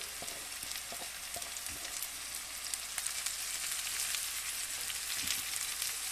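Okra curry with crushed garlic and peanuts frying in a pan as chopped coriander is added, giving a faint, steady crackling sizzle with scattered light ticks and no talking.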